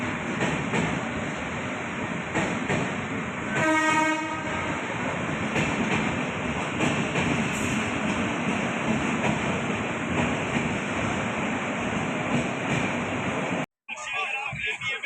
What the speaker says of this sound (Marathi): आपल्या ट्रेनच्या पुढे जाईल ट्रेन लवकरच.